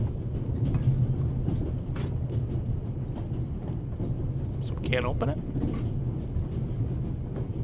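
Steady low rumble of the Orient Express train rolling along inside a video game, continuous throughout, with someone speaking briefly over it.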